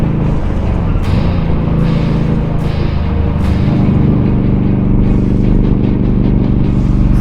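A vehicle engine drones close and loud on the winding Tail of the Dragon mountain road, with a steady low rumble and rising, falling pitch as it works between gears, under wind noise.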